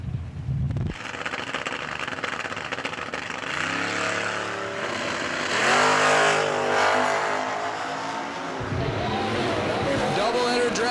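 A 1967 Camaro drag racing car at a fall drag racing event, its engine revving and roaring loudly with rising pitch sweeps over steady crowd and track noise, while a voice talks over it.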